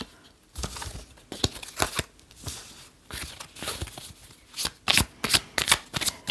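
Tarot cards are shuffled and flipped over during a reading, making a long series of crisp riffling and papery slaps, close and steady, with quicker sharp flicks toward the end.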